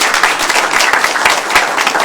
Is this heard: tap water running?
no